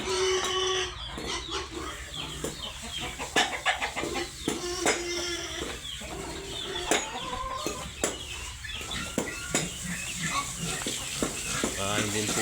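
Backyard chickens cluck and chatter in a busy group at feeding time, with scattered calls and someone speaking over the flock.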